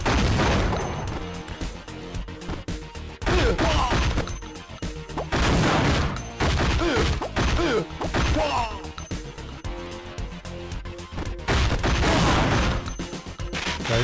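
Machine gun fire in the PlayStation game CT Special Forces, loud bursts of rapid shots and crashing impacts arriving in several clusters with short gaps between them.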